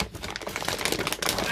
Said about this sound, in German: das ist die Tüte und hier, Achtung, ich klappe es zusammen